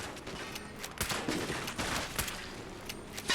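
Rapid bursts of video-game gunfire from Fallout 76, with repeated sharp shots spread through the moment, loud and close, with no talk over them.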